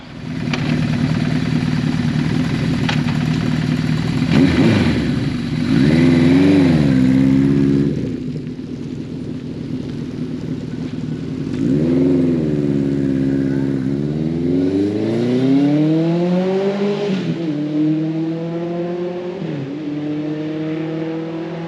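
A Suzuki GS1100 motorcycle engine on a test ride after a new clutch, loud and close, revving up through rising gear pulls, easing off and climbing again repeatedly with no talk.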